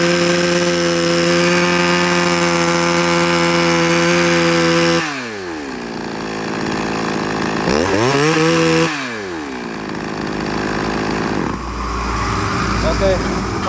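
A Japanese E5 chainsaw engine runs loud and close, idling steadily, then revving up and dropping back several times.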